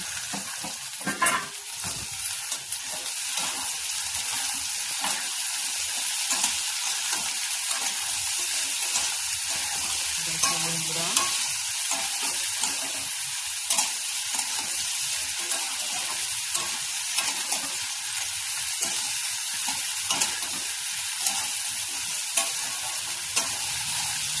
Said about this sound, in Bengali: তারপরে আমি এরপরে আলু পটলগুলো দিয়ে দেবো।